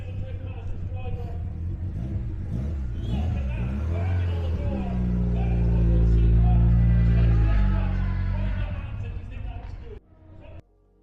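A Toyota Celica GT4 at a Japanese car show pulls away, its engine rumbling and swelling to a loud peak before fading, with crowd noise in the background and a sudden drop near the end.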